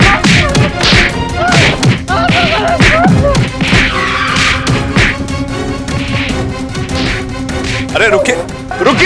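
Fight sounds from a courtroom drama scene, with people being struck by repeated whacks, punches and heavy thuds landing in a rapid, irregular flurry, loud and close, while voices shout over them.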